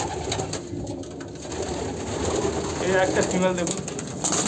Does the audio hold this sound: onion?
no